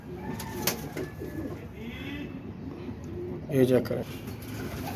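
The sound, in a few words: pigeons cooing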